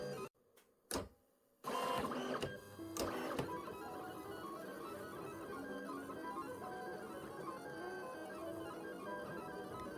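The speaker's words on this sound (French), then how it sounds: "La machine de découpe a bien tourné ce jour-là." An electric cutting machine works through botanical sticker sheets, its steady motorised whirring and shuffling running on continuously after a few sharp knocks and handling sounds at the start.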